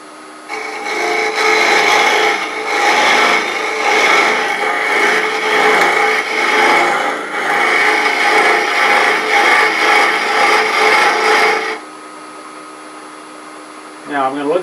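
Hook tool cutting a spinning workpiece on a wood lathe for a Christmas tree ornament, a continuous loud scraping hiss with rhythmic pulsing for about eleven seconds, then the lathe hum alone with a short voice at the end.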